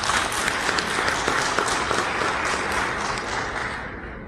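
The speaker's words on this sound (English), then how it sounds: "I think they deserve a round of applause." Audience applause at the launch of an African regional office, a broad sustained clapping from a seated crowd with a few sharper individual claps, fading out near the end.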